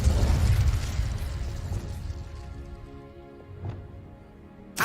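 Incendio fire spell cast in the Hogwarts Legacy video game, a loud whooshing burst of flame that swells at the start and fades over a few seconds, with a smaller pop near the middle and a sharp crack at the end.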